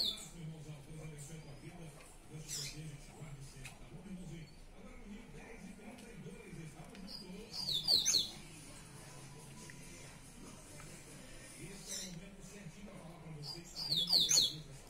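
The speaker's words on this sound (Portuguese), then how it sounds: "Aqui é coleiro na veia." A caged male double-collared seedeater (coleiro) gives two short, bright song bursts, fairly near, over a low background of murmuring voices and room noise.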